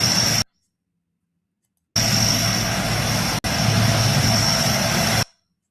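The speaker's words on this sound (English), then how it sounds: "look at this aircraft" An aircraft engine gives a loud, steady roar with a high whine, heard in a short burst and then a longer stretch, split by abrupt silence.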